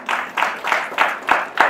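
Audience at a Marathi spiritual discourse on Samarth Ramdas's Dasbodh clapping in a steady, evenly spaced rhythm, six distinct claps in a row, fairly close and without talk.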